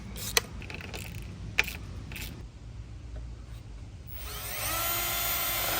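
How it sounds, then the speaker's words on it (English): A power drill bores holes to mount a dump truck mud flap bracket, sounding as a nearby steady whine with two sharp clicks. A higher, brighter tool noise takes over near the end. "after a little bit of drilling, some cutting, got it installed"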